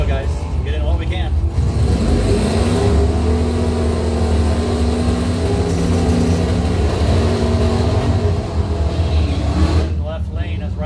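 Drag racing cars at a bracket race rumble loudly down the strip, engines droning and revving with rising tones, while an announcer talks over the noise.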